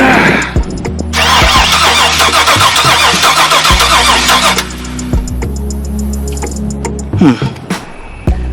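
A Chevrolet C10 truck with an LS-swapped 6.0 engine cranks loudly and hard for several seconds, then drops to a lower steady rumble broken by a few clunks near the end, close up with no talking.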